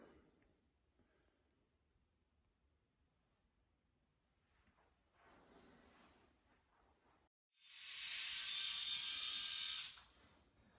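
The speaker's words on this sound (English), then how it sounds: "Here's what it looks like with the skull shaver." An AW skull shaver running over a head, a quiet buzzing at first that swells into a loud, close, bright electric whir for about two seconds before cutting off, with no talk.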